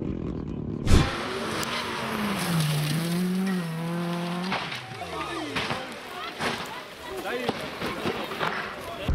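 Rally car during a 2024 East Riding Stakes Rally crash, with a sharp impact thud followed by a rising, wavering engine tone and scraping, rumbling noise under crowd or commentary voices.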